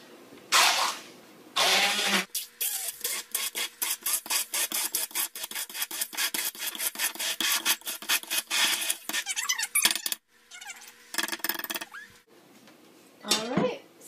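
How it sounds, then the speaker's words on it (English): An immersion blender whirs through a black bean dip made with half a can of jalapenos and a couple pinches of salt, running in a steady grinding buzz with brief pauses before a final short burst. "And I'm going to use my immersion blender again."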